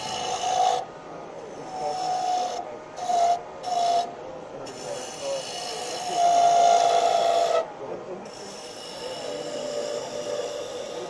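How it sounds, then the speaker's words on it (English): A roughing gouge cuts a wooden honey dipper blank spinning on a lathe, making a steady raspy scraping with a whistling tone that swells and dips in short passes and one longer cut. "Come back with the roughing gouge. Always cutting downhill from large diameter to small diameter."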